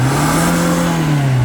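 A small car's engine revs hard under acceleration, a loud continuous drone with a steady pitch that bends slightly upward and back, close and alone.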